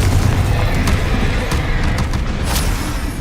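A Confringo blasting spell from Hogwarts Legacy erupts as a dense, loud roar of low booming rumble, with a few sharp crackling bursts layered through it, sustained across the whole moment without any voices.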